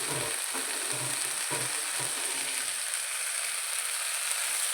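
A spatula scrapes and stirs flattened rice (avalakki) with coriander leaves and grated coconut in a pan over a steady, close sizzle, with a few soft scraping strokes early on before the frying hiss carries on alone.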